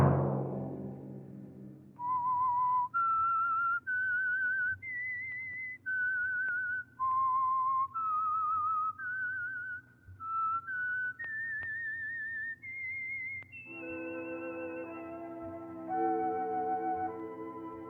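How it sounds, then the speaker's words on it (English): A whistled melody of distinct sustained notes stepping up and down, the signature theme of The Whistler, a Signal Oil radio mystery program, clear and alone after a fading low tone, ending in a swell of orchestral accompaniment. "Let that whistle be your signal for the Signal Oil program, The Whistler"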